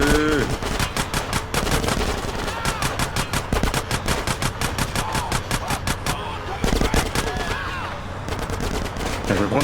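Rapid automatic gunfire in the video game GTA: San Andreas, dense bursts of close shots crackling almost continuously with brief pauses, loud and busy throughout.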